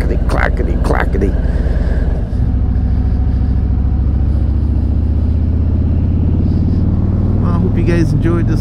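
A Yamaha Tenere 700 motorcycle rides along with a loud, close engine rumble and mechanical clatter from a worn primary drive, while a rider talks over it.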